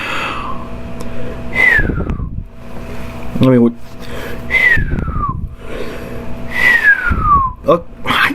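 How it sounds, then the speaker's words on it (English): A person whistles three slow, downward-sliding notes in a row, each followed by a short breathy pause, with a steady hum of background noise underneath. "terrible at my whistles"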